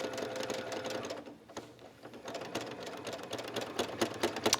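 Sewing machine retracing stitches on a scrappy quilt applique, running in quick mechanical bursts with a brief slowdown midway, then resuming its rapid clatter, fairly close.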